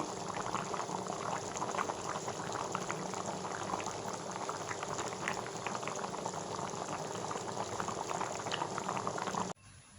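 Broth poured over beef tripe cooking in a pot, bubbling steadily and loudly with a continuous dense fizzing boil that cuts off abruptly at the end, no talking.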